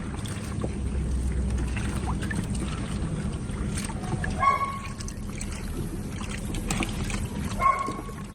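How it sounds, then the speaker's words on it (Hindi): Water sloshes and splashes as a blanket is dipped and worked in a full-size washing machine filled to the brim, with steady swishing churn and occasional louder splashes, close and alone. "ये मेरी फुल साइज वॉशिंग मशीन है और मैंने इसको पूरा मुंह तक पानी से भर लिया था। अब मैंने ब्लैंकेट को इसमें डिप कर दिया"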